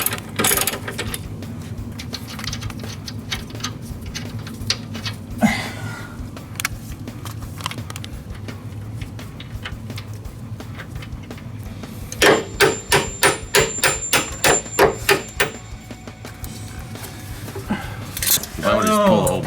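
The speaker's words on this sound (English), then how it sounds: "we are going to remove the bolt that secures the lower link to the frame" A ratchet works on a 19 mm bolt holding the lower suspension link to the frame of a DeLorean DMC-12 in a garage. Scattered metallic clanks come first, then a burst of rapid, evenly spaced ratchet clicks, close and loud.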